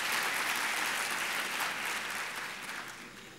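Audience at a corporate tax seminar applauding steadily, a dense, close wash of clapping that stays strong before slowly thinning toward the end, with no talking over it.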